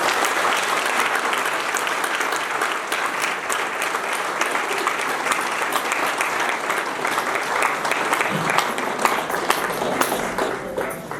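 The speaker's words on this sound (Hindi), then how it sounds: "उसके लिए जोरदार ताली बजाएं।" Loud, sustained applause from a spiritual discourse audience fills the whole stretch, a dense steady wash of many hands clapping with no break.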